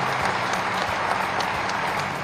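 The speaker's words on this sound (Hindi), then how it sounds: "एक बार जोरदार तालियों के साथ स्वागत करते हैं" Applause at a public development-project ceremony welcoming the chief minister, a dense, steady wash of many hands clapping throughout, with no clear individual claps standing out.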